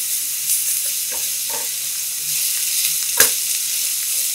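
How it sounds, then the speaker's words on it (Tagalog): Onion and garlic sautéing in a pan, a steady close sizzle with a few scraping stirs and a sharp clink near the end, no talking. "Maggisa tayo ng sibuyas. Sunod naman yung bawang."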